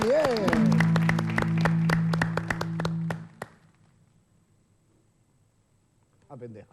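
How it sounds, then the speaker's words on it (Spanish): A live audience claps in quick, rhythmic bursts over a sustained droning musical tone for about three seconds, then falls quiet, with faint voices returning near the end. "Dale, aplaudile."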